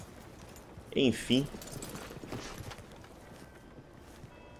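A black American Standardbred horse wearing a saddle in Red Dead Redemption 2 clip-clops in a short burst of hoof steps over a quiet outdoor ambience, while someone speaks briefly over it.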